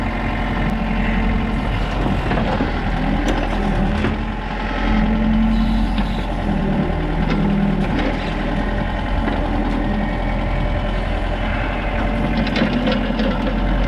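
A tracked excavator's diesel engine runs steadily under load as the machine pulls backward with its bucket to ease a thrown track's tensioner back, a continuous close rumble with faint clanks and no talking.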